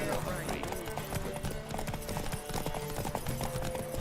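In The Witcher video game, horse hooves clip-clop at a quick, rhythmic trot as a rider urges the horse forward, with game music playing and voices speaking over the hoofbeats.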